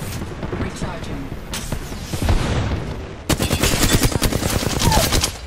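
Gunfire in the Apex Legends video game, with rapid automatic bursts and heavy shots, loud and close, building into a dense stream of fire over the final seconds while a player talks.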